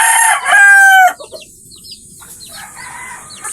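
A rooster crows loudly and close, a rising drawn-out call, then backyard chickens cluck softly in scattered bursts afterward.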